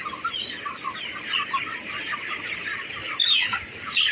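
Chickens cluck steadily in a semi-controlled poultry shed holding 23-day-old birds, a dense flock chatter with a few louder, nearer calls toward the end and no talk.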